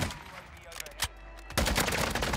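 Gunfire from a shotgun in a video game: a couple of sharp shots, then a loud, dense burst of firing fills the second half.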